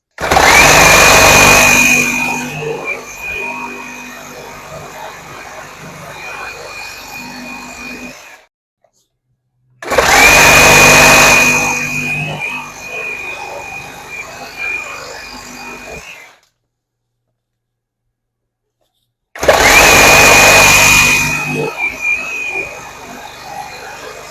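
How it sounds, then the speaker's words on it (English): A Metabo HPT reciprocating saw running on a tabless battery, heard in three loud cutting bursts of about seven seconds each with short silent gaps between them, and a steady high motor whine through each run. "I don't think I could really see or hear a difference in the recip saw between these 2 batteries"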